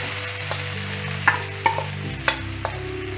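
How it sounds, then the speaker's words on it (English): Rice noodles stir-fried in a pan, with a steady sizzle and several sharp clinks and scrapes of a utensil tossing them, close and with no talk. "we are going to add our noodles. Just mix for like 30 seconds and then add your noodles."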